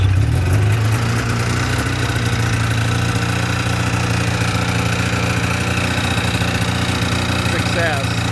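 1986 Yamaha Phazer snowmobile engine, warm rather than cold, catching and settling into a loud steady idle close by, a continuous droning rumble with a voice heard briefly.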